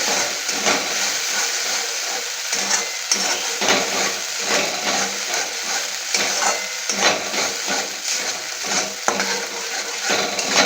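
Rohu fish pieces in poppy seed paste fry with a steady broadband sizzle, stirred slowly in a pan with soft repeated scrapes and occasional clinks, continuous and fairly close with no talking.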